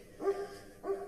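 Two loud barks from a protection-trained dog ring out about half a second apart, fairly close, against a quiet background, during a bark-and-hold exercise at a hiding blind.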